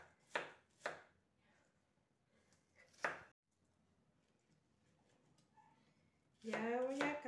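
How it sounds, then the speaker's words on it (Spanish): Onion being chopped with a knife on a board while cooking stewed carrots, with a few sharp separate chops early on, quiet handling between them, and a louder stretch of noise at the end. "Ya voy a acabar de picar la cebollita"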